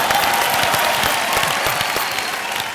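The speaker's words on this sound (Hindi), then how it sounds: "अरे तालियां।" Studio audience at a Hindi TV game show bursts into sustained applause, a dense, steady wash of clapping that fills the moment on its own without any talk.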